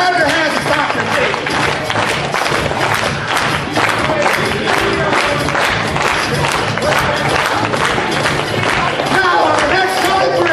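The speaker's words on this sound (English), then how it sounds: "Come on, clap your hands and stomp your feet." A crowd claps and cheers loudly and continuously at a lively event, a dense wall of hand claps and shouting voices with rhythmic thumps that could be stomping feet.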